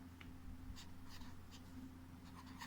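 A pen writes numbers by hand on paper during an addition sum, making faint, close scratchy strokes in short bursts over a low steady hum.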